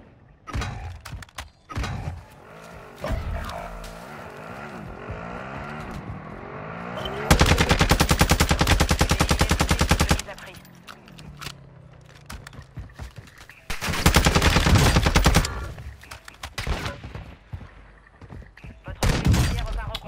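Rapid bursts of gunfire in the Warzone video game, including sniper rifle shots, come in two long dense volleys with scattered single shots between them, loud and close, under faint background talk.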